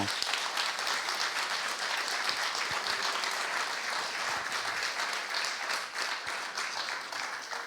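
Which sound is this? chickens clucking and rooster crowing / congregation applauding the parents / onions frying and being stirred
congregation applauding the parents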